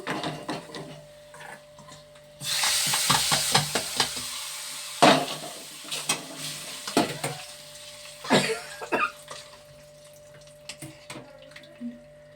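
Hot oil with asafoetida tempering for dal erupts into a sudden loud sizzle after a quiet start, then settles into a softer crackle punctuated by spoon scrapes and clattering stirs that fade toward the end.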